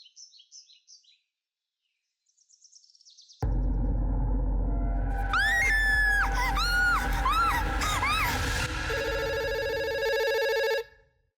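A telephone ringing in a police station, with warbling electronic ring tones over a loud, dense background that starts abruptly and holds steady, following a few faint beeps at the start; no one speaks.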